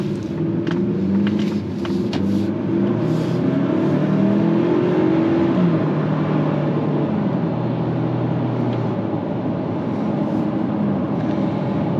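Steady engine drone and road rumble from a 2024 Ford Ranger Lariat pickup heard from inside the cab while driving, a constant low hum holding evenly throughout with no voices.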